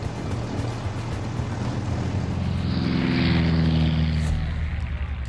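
Douglas DC-3 Dakota (C-47) propeller aircraft engines, a steady droning rumble with a throbbing prop beat that swells louder partway through, a wartime transport plane heard without talk.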